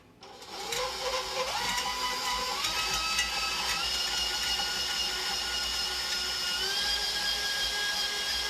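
An electric mixer creams butter and sugar, whirring up to speed and then running at a steady high-pitched buzz, close and continuous with no talking.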